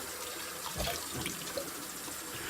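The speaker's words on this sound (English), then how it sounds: "So make sure you rinse your face well" Tap water running and splashing in a sink while a face is rinsed after shaving, a steady close gush with small splashes and drips.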